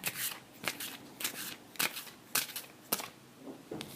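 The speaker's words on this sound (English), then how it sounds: "the next card I'm pulling up is also Colette Baron Reed." Oracle cards are pulled and handled from a deck, giving a series of crisp snapping and shuffling flicks at irregular intervals, close and clear with no talking.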